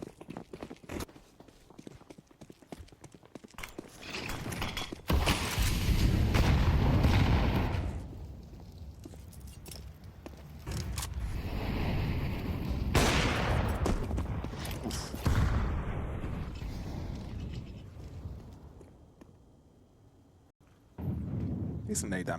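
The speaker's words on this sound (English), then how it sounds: "Decent nade damage onto Vinny and saadzin" Grenade blasts and gunfire from a Counter-Strike esports match in a StarLadder qualifier, loud bursts and booms surging in waves under steady commentator talk throughout.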